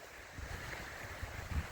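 Strong wind buffets the microphone on an exposed mountainside above a lake, producing a steady, roaring rush with gusty swells and no voices.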